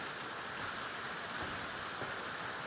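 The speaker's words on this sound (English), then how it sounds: "Wow, obviously it's raining." Steady rain falls outside a 1950s Swedish house under renovation, a dense continuous hiss of drops on surfaces, fairly even and moderately loud with no voices.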